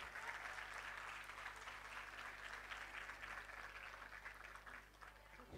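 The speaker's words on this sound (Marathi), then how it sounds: "पुन्हा एकदा जोरदार टाळ्या." Audience applause after a live Marathi lavani song at a concert, a steady dense clapping from a crowd that carries on evenly for several seconds with no voices over it.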